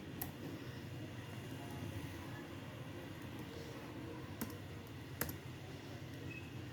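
Computer keys click sparsely while AutoCAD shortcut commands are entered, a few sharp taps standing out over a quiet room hum.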